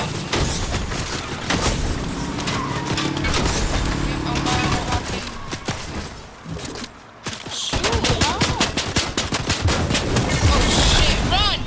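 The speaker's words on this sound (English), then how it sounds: "I'm getting shot from multiple places." Loud, dense gunfire rings out from several directions in the video game Fortnite, with rapid volleys, cracks and booms rattling almost continuously while voices talk over it.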